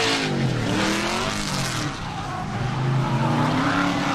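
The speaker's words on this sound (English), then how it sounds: "Justin Chestnut out front in that 1 Series BMW, throwing it sideways, initiating nice on throttle" A BMW 1 Series drift car slides sideways at an LS Fest Texas drift event, its engine roaring on throttle as sustained tire squeal rises and wavers across the slide, loud and close.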